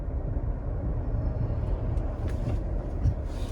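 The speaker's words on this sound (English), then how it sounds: "There's a truck." A truck passing on a busy street, heard from inside a 2020 GMC Acadia as a low, steady rumble of traffic with a brief swell near the end.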